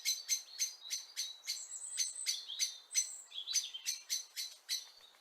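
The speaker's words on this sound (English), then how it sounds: "So alarm calls, of course, from a blackbird" A blackbird gives a repeated alarm call, a rapid series of sharp, high chinking notes in an even rhythm, loud and close with no other sound behind it.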